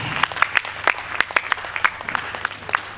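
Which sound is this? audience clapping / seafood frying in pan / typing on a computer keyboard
audience clapping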